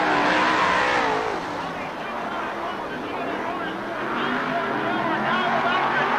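Sprint cars at a 1991 CRA race at Hales speedway roar away together at the start, a loud continuous engine din with blended revving that dips briefly and swells again, a commentator talking over it.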